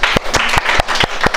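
Audience clapping at a ladies' special community event: steady, close applause from a crowd, with dense overlapping claps and a few sharper individual claps standing out in a regular rhythm.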